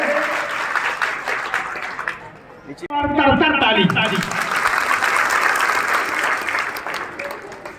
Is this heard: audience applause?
yes